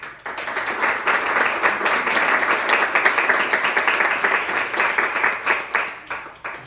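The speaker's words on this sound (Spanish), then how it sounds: "sin más preámbulo lo recibimos con un fuerte aplauso" A lecture audience applauds the arriving speaker, a dense, loud wash of many hands clapping that holds steady for several seconds before thinning into scattered claps.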